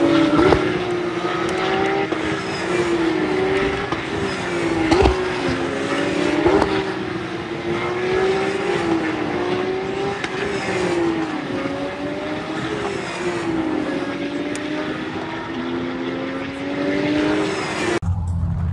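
Race cars at the Dijon-Prenois circuit roar past one after another, engines loud and close with steady revving and Doppler-shifted pitch sweeps, blending into a continuous track din.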